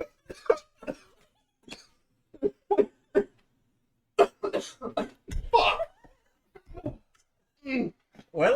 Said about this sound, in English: I coughed up a Cheeto.